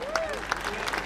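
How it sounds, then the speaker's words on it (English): Crowd applause for a sheep shearer at the Yorkshire show, moderate and steady across the moment with some voices and a whistle-like tone mixed in. "let's give him a round of applause"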